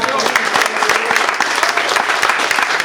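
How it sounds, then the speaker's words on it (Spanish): A church congregation at a Spanish-language worship service breaks into loud, sustained applause, a dense wash of hand claps filling the whole moment with no clear voices on top. "Ahora denle un fuerte aplauso al Señor"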